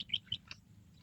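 Racing pigeon held before a single toss release outdoors, giving a few faint, brief chirpy calls in quick succession, soft and close with no talk.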